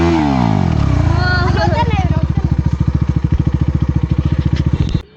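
KTM Duke 390 motorcycle engine revving loudly during a wheelie, a steady roar that rises in pitch then breaks into a fast, rhythmic pulsing as the throttle drops, close and dominant before cutting off near the end.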